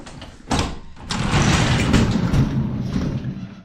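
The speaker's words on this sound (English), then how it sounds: "Let's get this door open." A door slides open with a heavy thud followed by a sustained rumbling roll, close and fairly loud, no voices.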